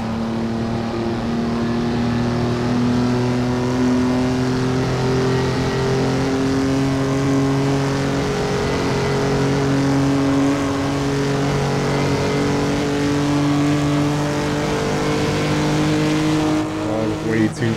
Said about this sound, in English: Backfiring gets me every time.